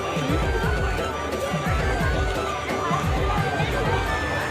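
A busy crowd at a Meena Bazaar market fair, with dense overlapping chatter and babble that stays loud and steady throughout, with occasional clatter mixed in.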